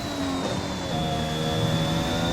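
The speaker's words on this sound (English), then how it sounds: "I'll let you enjoy pure engine sounds from the Red Bull." A high-pitched Red Bull Formula One engine drones loud and steady in a racing game lap at the Portugal circuit, its tone holding nearly constant with a slight shift in pitch.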